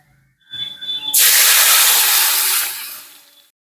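A few quiet clinks, then a sudden loud burst of sizzling as lentils hit hot oil with fried chillies, cumin and onion, holding for about two seconds before fading away.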